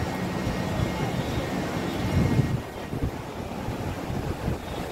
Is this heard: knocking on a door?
no